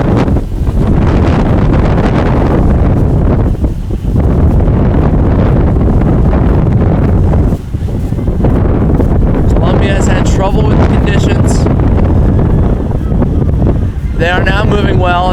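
Strong wind gusts buffet the microphone at a women's rowing race between Princeton and Columbia, a loud continuous roar that swells and dips throughout, with a commentator's voice faintly under it.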